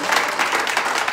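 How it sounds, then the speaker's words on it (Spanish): A church congregation at a Spanish-language service breaks into brief, loud applause, dense clapping from a crowd heard up close. "Un fuerte aplauso aquí."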